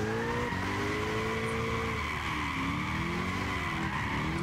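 Tyres squeal steadily as a car drifts sideways on soft suspension in Gran Turismo 6, the screech riding over a continuous engine drone for the whole stretch, loud and close.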